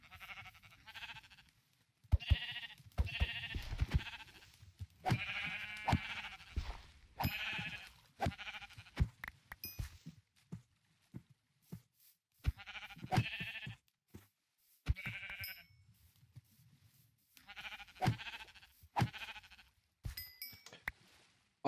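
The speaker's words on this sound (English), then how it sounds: "Sheep." Sheep bleat repeatedly in the Minecraft video game, short loud cries in irregular clusters over about twenty seconds, mixed with sharp clicking and hitting sounds.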